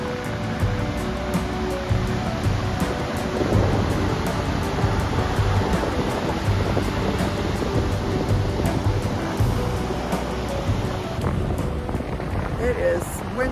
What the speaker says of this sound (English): The mighty Pacific.